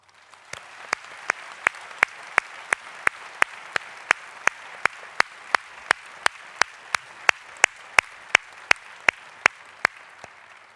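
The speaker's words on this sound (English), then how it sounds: "perhaps you might show your appreciation and join me in a round of applause." At a medical school conferring ceremony an audience applauds softly and steadily, while one nearby pair of hands claps loudly in an even, regular beat over the whole stretch.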